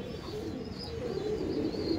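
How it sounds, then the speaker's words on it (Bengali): Madras pigeons in a loft coo softly and continuously, low murmuring calls layered over one another close by, with faint rustling in the background and no voices. "এই দেখুন এটা হচ্ছে নর পায়রা"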